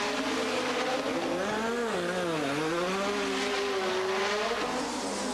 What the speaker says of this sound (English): Prost's McLaren hummed calmly on.